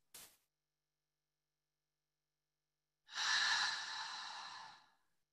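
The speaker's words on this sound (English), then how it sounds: "start breathing audibly so you can hear your breath" A single deep, audible breath is released as a long, soft airy exhale lasting about two seconds, close and quiet, after a tiny brief inhale and a stretch of silence.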